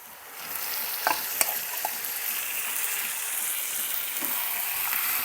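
Chicken pieces tipped into hot spiced oil for a spicy chicken curry, frying with a steady sizzle while a spoon stirs, a few sharp clinks and scrapes near the start, no voices.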